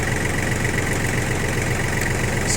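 A Yanmar FX18D mini tractor's diesel engine idles while still cold, a steady, even, close-up rhythmic chug with no voices.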